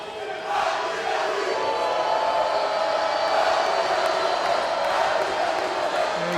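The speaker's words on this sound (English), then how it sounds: "you can see this is a great crowd back and forth" A high school boys basketball crowd at a Maple Grove vs. Champlin Park game roars and cheers continuously, a dense wash of voices rising after a brief quieter start.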